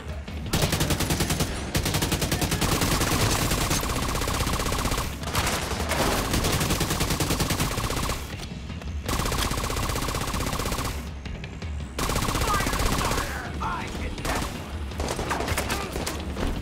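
Dense bursts of automatic gunfire in The Division 2 video game, loud and close, in long sustained volleys broken by short pauses.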